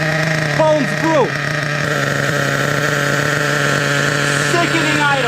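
A vintage Ofna Twin Titan RC truck with dual 26-size nitro engines idles in a steady, loud buzzing drone, with people talking over it.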